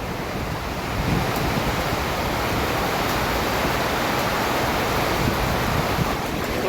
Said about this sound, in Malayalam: ഭയങ്കര മഴയും കാറ്റുമാണ്